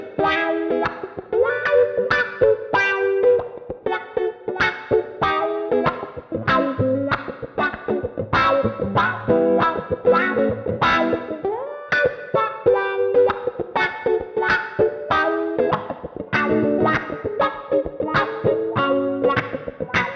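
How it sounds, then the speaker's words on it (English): Electric guitar played through a sweeping Xotic wah pedal with a vintage-style tone, dense phrases with vocal-like filtered sound, steady and loud throughout with no talking. "the way that it sweeps and the tone I'm getting feels very much like a vintage wah pedal"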